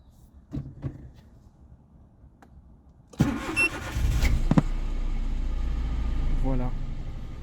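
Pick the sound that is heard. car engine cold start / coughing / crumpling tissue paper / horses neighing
car engine cold start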